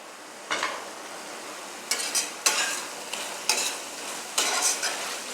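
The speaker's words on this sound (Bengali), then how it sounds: "ভালোভাবে নাড়াচাড়া করব" Chow mein vegetables are stirred in a hot pan with tomato sauce, giving several distinct scraping, sizzling sweeps at uneven intervals over a steady frying hiss, close and fairly loud with no talking.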